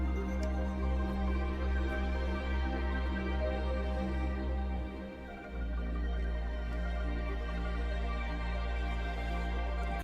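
Ambient music from a Trailmakers video game track: sustained, layered tonal drones and soft textures play steadily on their own, with a brief dip midway before continuing.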